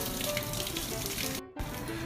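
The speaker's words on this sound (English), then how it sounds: "I'm just going to run it under some cold water and the skin just peels right off" A peeled tomato is rinsed under a cold kitchen tap, the running water a steady close hiss and splash that briefly cuts out and then resumes.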